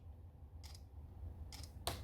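Camera shutter clicks from a Motorola Edge (2024) phone taking pictures: two or three short, crisp clicks that start quiet and grow sharper, with the last one the loudest, over a faint low hum.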